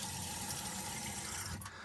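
Water runs steadily from a hydrophore pump system aboard a boat, a close, continuous tap-like rush that dips slightly at the end.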